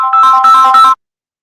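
A phone ringtone plays a bright, repeating electronic melody for just under a second, loud and close, then cuts off into silence.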